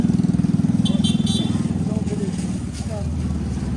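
An idling engine on a used motorcycle at an outdoor flea market putters in a fast, even rhythm close by, fading slightly toward the end, with a voice speaking briefly over it.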